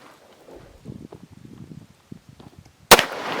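Quiet rustling and movement build up, then a single sharp, loud gunshot cracks out near the end, at an indoor shooting range.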